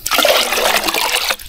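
Water trickles and splashes steadily from a rural drinking water source in the provinces, a close, bright, continuous pour lasting just over a second before stopping.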